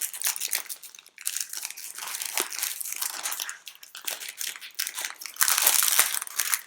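Stiff plastic disposable nappy packaging being folded by hand, a near, continuous crinkling and crunching with bursts of sharper rustle, louder near the end, and no talk over it.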